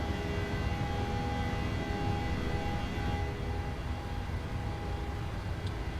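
PMDG 737-800 jet climbing out of Toronto after takeoff in Microsoft Flight Simulator, a steady broad engine roar with a thin whining tone on top, constant and loud from start to end.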